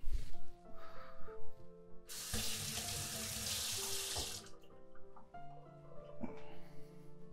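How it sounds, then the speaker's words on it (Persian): Boiled water poured from a kettle into a teapot holding pomegranate and golpar for an herbal infusion, a loud steady rushing pour lasting a couple of seconds amid quieter kitchen clinks and background hum. "آب جوشو بهش اضافه میکنم."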